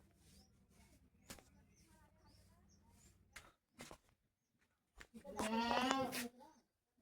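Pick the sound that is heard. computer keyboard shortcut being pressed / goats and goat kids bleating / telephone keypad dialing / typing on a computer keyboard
goats and goat kids bleating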